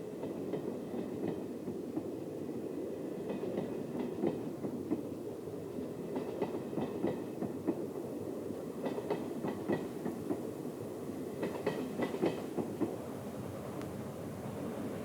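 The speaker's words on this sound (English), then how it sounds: "this TEE liveried RE442 departing for Zurich Airport with ex-Swiss Express Mark III stock" A Swiss RE 4/4 II electric locomotive hauling ex-Swiss Express passenger coaches rumbles past nearby, departing Luzern, with wheels clattering rhythmically over rail joints and a steady electric drone, no voices.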